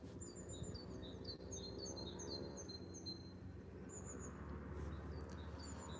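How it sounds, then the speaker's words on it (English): Birds sing in short chirping phrases at a quiet riverside mooring on the Norfolk Broads, with a steady low rumble of background noise underneath. "All I can hear is birds singing."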